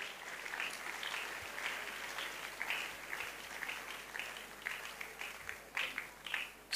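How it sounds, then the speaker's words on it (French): Applause from a large crowd at an outdoor evangelistic crusade, a dense, steady patter of many hands clapping that swells in bursts, fairly distant and unbroken by speech. "Yes, please clap and much louder."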